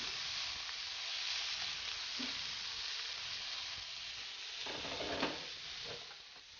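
Fish frying in olive oil in a pan, the pieces pushed to the edge to finish cooking, giving a steady soft sizzle with occasional clinks and scrapes of a utensil, fairly quiet and unbroken throughout.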